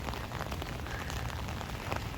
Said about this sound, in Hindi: हमारे तो भी यहाँ पे बहुत बारिशें हो रही हैं